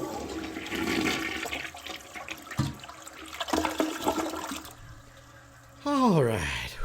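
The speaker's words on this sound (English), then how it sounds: "I'm going to go flush my head in the toilet." A toilet flushing indoors, with water rushing and gurgling at moderate volume, followed by a rising whoosh as the bowl refills near the end, with some background noise and a voice at points.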